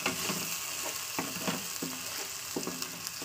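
Spices cooked with salt and turmeric sizzle in a pan as a little water goes in, a fairly quiet steady hiss punctuated by a few light stirring knocks, with nobody talking.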